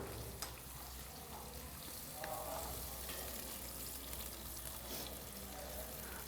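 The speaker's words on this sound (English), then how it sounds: "Now I'm going to add the onions. Our oil has heated up." Onions sizzle and fry in heated oil, a steady, dense crackling hiss that stays even throughout with no talking.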